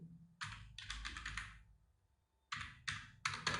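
Clicks of a computer keyboard in a few short clustered bursts of typing separated by a pause, close and quiet with no talking.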